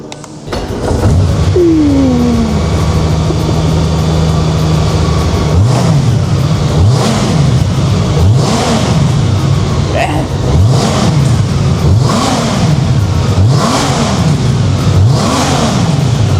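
A Honda Goldwing F6B motorcycle engine starts and is revved repeatedly, loud rising-and-falling surges in a steady rhythm, close by.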